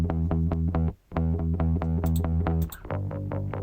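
Bass played through a solid-state amp modeling plugin, a run of quick, evenly plucked notes with a short gap near the start and a sustained low note at the end, heard alone.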